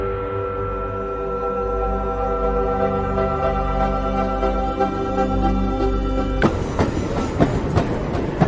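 A train rolling along on the ride home, a steady low rumble with ongoing wheel noise that turns into louder, sharper clatter and rattling in the last couple of seconds, close and continuous with no voices.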